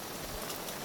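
Heavy monsoon rain pours in a dense, even hiss during a drive to a fort, close and continuous with no voices.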